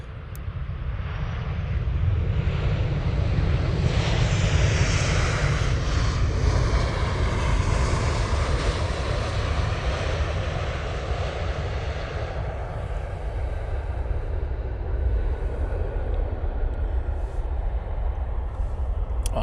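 A fixed-wing airliner takes off from Manchester Airport bound for Boa Vista, its jet engines roaring loud and steady as it accelerates, the broad rumble slowly fading as the plane climbs away.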